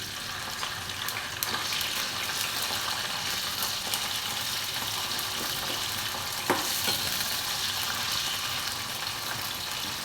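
Okra sizzles steadily in hot oil in a wok, with a constant crackling hiss and occasional scraping clinks of stirring, close and fairly loud, with no talking.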